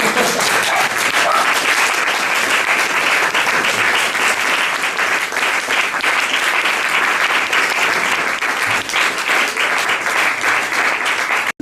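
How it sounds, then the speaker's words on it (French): A festival audience breaks into loud, sustained applause after a lecture, dense clapping that holds steady for about ten seconds before cutting off abruptly. "J'arrête là. On applaudit."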